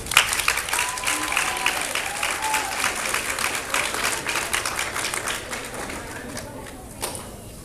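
Audience at a sixth grade graduation ceremony applauding steadily for honor roll students, dense clapping that slowly fades, with some voices talking underneath.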